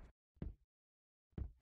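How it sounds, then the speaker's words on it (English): A door slammed shut in a horror video game, heard as two short, solid thumps about a second apart over otherwise dead silence. "Let me just slam this door real quick."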